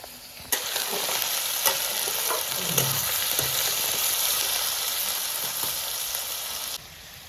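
Cut flat beans dropped into a hot frying pan, a sudden hiss that settles into a steady sizzle with occasional stirring scrapes, close up, ending abruptly.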